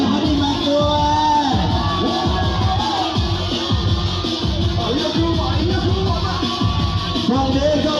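A crowd at a Thai-Lao stage show in a party setting cheers, whoops and shouts continuously, loud and close, with yelling voices over a steady roar and music faintly beneath.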